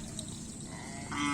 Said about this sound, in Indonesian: Ini ada sapi punya Pak Jarod, guys.